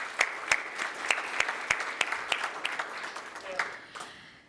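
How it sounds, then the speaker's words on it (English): An audience at a conference hall of fame ceremony applauds, sharp individual claps standing out in a steady patter that slowly thins and fades toward the end; a voice is faintly audible beneath. "So one more round of applause for Whitney."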